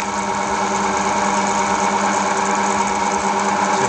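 An electric motor runs steadily with no oil in its bath, loaded to about 120 foot-pounds, giving a continuous whirring hum with a mechanical buzz, close and unbroken throughout.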